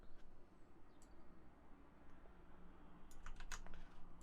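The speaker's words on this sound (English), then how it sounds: "I realized how loud this keyboard actually was on stream, so I thought to myself, you know what? Let's change this and actually get a better keyboard" Typing on a newer, quieter computer keyboard, soft muffled key presses in an irregular patter with a brisker cluster of clicks near the end, close but faint over steady room noise.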